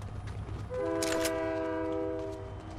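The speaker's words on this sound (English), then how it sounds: "Train." Train horn blasting loudly in a Fortnite match, a sustained multi-tone chord held for about two seconds over the steady rumble of a passing train, with no talk.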